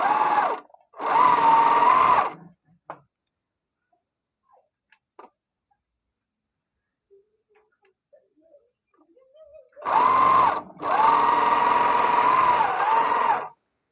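An overlock sewing machine serges a shoulder seam on a blouse. Two loud, fast-running bursts of stitching are separated by a long quiet pause with faint handling clicks.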